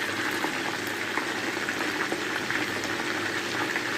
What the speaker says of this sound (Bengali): রোস্ট করার জন্য চিকেনগুলো যদি এভাবে হালকা করে ভেজে নেন